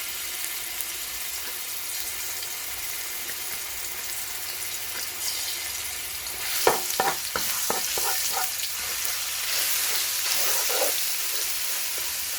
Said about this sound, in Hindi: इसमें मैंने 2 चम्मच ऑयल डाले, लहसुन डाल रही हूँ।